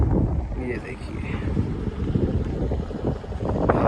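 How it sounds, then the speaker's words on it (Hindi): Wind gusts buffet the microphone at a roadside on the Leh Ladakh road, a rough rumbling roar that rises and falls, with faint voices and a distant river beneath it. "हवा चल रही है"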